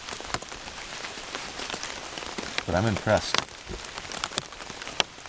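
Steady rain patters on a small tarp stretched over an 11-foot hammock, a dense close hiss of drops with occasional louder taps, while a person speaks briefly over it.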